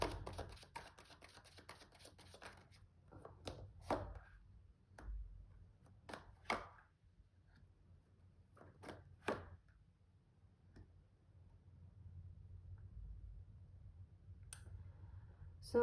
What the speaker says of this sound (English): I am going to go ahead and draw a few cards